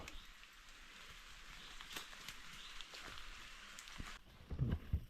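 Light rain falls outdoors as a steady patter with scattered distinct drops, and a heavier thump or rustle comes near the end.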